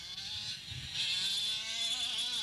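200 Supers racing karts in a 1991 Victorian Open final lap the track, their engines blending into a steady buzzing whine that shifts in pitch at moderate distance, with no talking.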